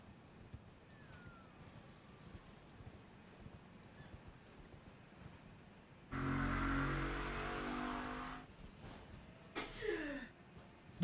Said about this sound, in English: There was a really loud car.